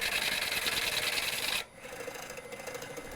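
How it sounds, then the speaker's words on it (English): Rough bowl blank being trued on a wood lathe with a gouge, a loud steady rasping scrape that cuts off abruptly midway, leaving the lathe's quieter whir alone. "Before I start hollowing the bowl, I'll true the face of the blank so that it runs true on the lathe."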